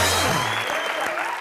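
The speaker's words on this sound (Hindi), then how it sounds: "जोरदार तालियां इन सबके लिए।" Studio audience applause on a comedy show, a brief loud burst of clapping with music and a voice layered over it.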